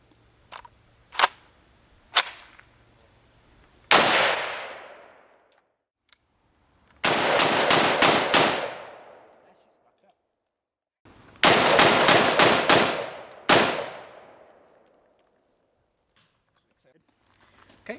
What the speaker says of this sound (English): just finished putting a few rounds through the IDF Tavor